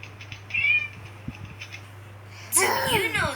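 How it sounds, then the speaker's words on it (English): A cat meows a few times, short and fairly close, between quiet stretches, then a longer, louder wavering meow near the end. "Cat. Cat."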